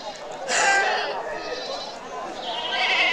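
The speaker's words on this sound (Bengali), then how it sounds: "অসংখ্য ছাগল রয়েছে" Goats bleat at a busy goat market, a loud bleat rising near the start and more calls following, over a steady crowd murmur and chatter.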